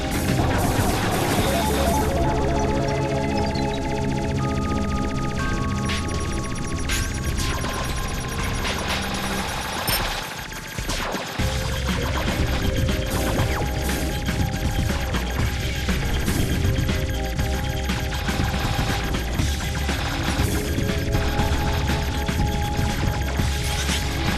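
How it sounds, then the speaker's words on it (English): A level 2 machine gun firing in a video game, sustained rapid bursts with mechanical clatter and crashes over a constant game soundtrack, a brief dip midway before firing resumes loud and continuous. "Machine gun level 2."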